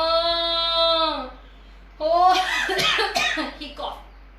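A storyteller imitates a cough with the voice: a sustained vocal tone, a short pause, then a burst of rough, breathy coughing sounds that trail off, close and clear.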